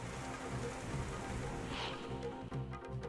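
Steady rain pours down across a Maharashtra farming area during sowing season, a dense continuous hiss of drops striking surfaces that stays even and close throughout with no voices.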